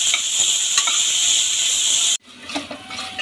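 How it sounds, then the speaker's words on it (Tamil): Masala for egg biryani sautés in a pan, a loud close hiss of frying with scraping stirs, then an abrupt drop to a quieter sizzle with a few utensil knocks. "இது நல்லா ப்ரௌன் கலர் வர வரைக்கும் நல்லா சாட்டே பண்ணிக்கோங்க."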